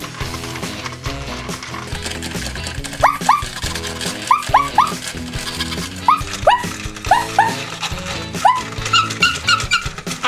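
Puppies on a toy puppy-powered carousel: steady mechanical music and whirring with repeated short yips and barks over it, the squeaky dog sounds clustering in the middle and later part.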